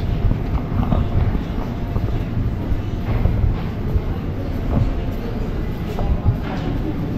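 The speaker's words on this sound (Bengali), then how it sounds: "Metro train." A metro train in Novosibirsk, Russia, rumbles on as a continuous low roar with wind-like noise, and faint voices can be heard underneath.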